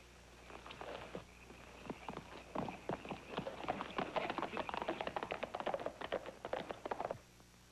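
Rapid clip-clop of horse hooves on a hard surface, many quick sharp taps building into a steady trotting rhythm before stopping abruptly.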